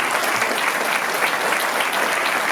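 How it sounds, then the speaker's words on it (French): Audience applause for a performer at a live stage show, a dense, steady wash of clapping hands filling the room and sustained evenly at full strength throughout. "Je voudrais demander d'applaudir Chaotique 747."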